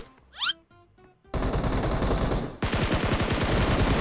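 Gunfire in a shooter game: after a few quiet clicks and a short whistling tone, a sustained loud burst of automatic fire, then a second, even denser rattling stream of rapid shots.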